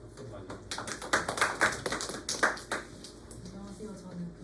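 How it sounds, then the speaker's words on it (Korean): Applause from an audience at a weekly research seminar: a burst of clapping that swells and then fades over a few seconds, with a faint murmur of voices beneath it. "박수 많이"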